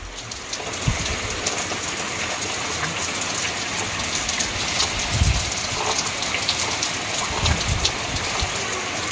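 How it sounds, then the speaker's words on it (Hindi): Heavy monsoon rain pours outside a jammed window, a loud, continuous broadband hiss of drops with occasional heavier splashes and gushes, steady for the whole stretch. "अब बारिश कैसे हो रहा है दिखाती हूँ।"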